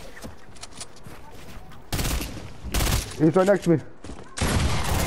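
Rapid volleys of gunfire in a shooter video game come in sharp bursts between quieter moments, while a player talks over the action.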